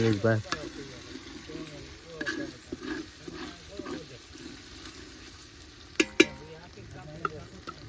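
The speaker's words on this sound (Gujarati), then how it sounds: "હા મસાલો તો પાકવા દેવો પડે બધું મિક્સ કરી રહ્યા છે" Masala for oro cooking in a pan gives a quiet, low sizzle, with occasional stirring scrapes and a couple of sharp metallic knocks near the end, while people talk faintly in the background.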